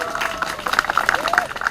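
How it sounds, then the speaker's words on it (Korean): Students gathered on a university campus square clap for a visiting candidate, a short, moderately loud patter of many hands, with voices and crowd murmur mixed in. "예, 박수 한번 주시죠."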